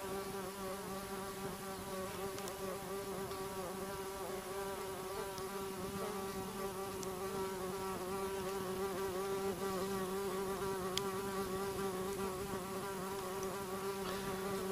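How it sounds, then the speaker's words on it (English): A steady drone of many bees buzzing continuously outdoors, close and even throughout, with no voices. "The bees are entertaining me."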